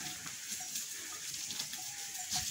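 A stream flows with a steady broadband rush of water, close and continuous, with small splashy bursts and no talking.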